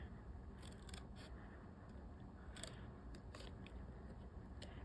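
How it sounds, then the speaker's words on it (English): Small snips of scissors cutting cardstock paper for a handmade card, a few quiet crisp clicks scattered in bursts over low background hiss. "This is much easier to do little cuts this way."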